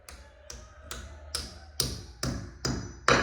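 Hammer blows driving a bracket into a wall, eight sharp evenly spaced taps roughly twice a second, growing slightly louder and close by, with no talking.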